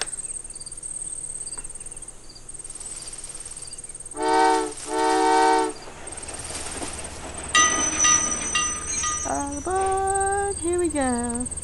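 A train in the video game Old Man's Journey rumbles along over a steady chirp of crickets, with a couple of horn-like blasts partway through and whistling tones near the end.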